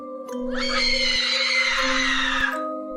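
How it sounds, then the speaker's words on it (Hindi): A witch screams in a horror tale as stones fall on her: one long, loud, shrill wail rising and holding for about two seconds over a low droning tone and music. "चुड़ैल की भयानक चीखें निकल रही थी"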